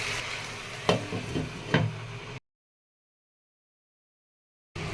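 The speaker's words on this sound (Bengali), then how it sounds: "খুব ভালো করে নাড়াচাড়া দিয়ে দিচ্ছি মশলাটার সঙ্গে মাংসটা" Meat is stirred with spice paste in a pan, giving scraping and clatter strokes over a soft sizzle for about two seconds before the sound cuts to silence, then briefly returns.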